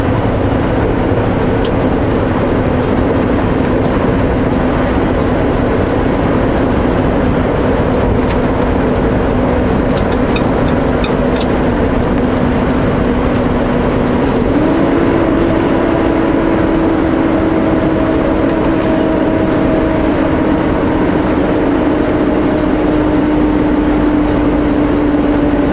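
A logging truck travels along a highway, heard as a loud, steady roar of engine and tyre noise that holds throughout with a slight shift in pitch midway, no voices.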